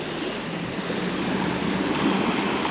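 Strong wind buffets the microphone over a continuous wash of breaking lake waves at a campsite in Switzerland, loud and steady with no voices.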